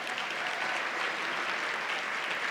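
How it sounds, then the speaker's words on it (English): A luncheon audience breaks into dense, even applause, many hands clapping at once in a continuous wash of sound with no voices standing out. "Give yourselves a round of applause."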